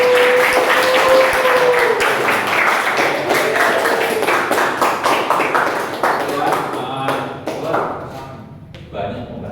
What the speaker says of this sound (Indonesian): Tepuk tangannya mana buat?